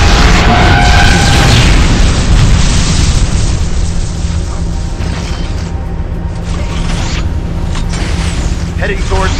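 The red core in Unreal Tournament 3 Warfare explodes as a loud, sustained booming roar with mechanical rumble, dense and continuous throughout, with voices speaking over the blast.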